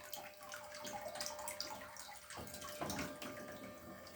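A small water pump jet boat, built from a drinks bottle with a hole cut in the side, runs in a bath, giving a steady, close splashing and rushing of water for the whole stretch.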